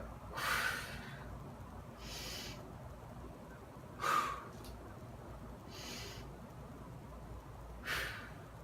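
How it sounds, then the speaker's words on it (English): Breathing during kettlebell bent rows, heard as a few sharp nasal exhales and breaths spaced a couple of seconds apart, fairly close and moderately loud over a low background hum. "Breathing in. Exhale as I pull. Inhale back down."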